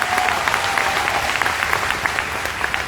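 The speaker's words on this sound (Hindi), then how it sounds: "जोरदार तालियां नीचे अक्षी दत्ता के लिए।" Loud, enthusiastic applause from a crowd at an event in Vadodara, dense clapping with distinct sharp claps popping out of the steady wash throughout.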